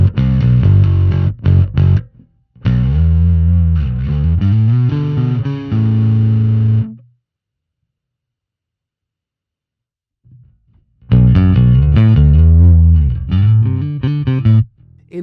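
Bass guitar played through the distortion setting of a Sonicake Matribox II Pro multi-effects processor, with loud, gritty, sustained notes and riffs in two bursts separated by a few seconds of silence.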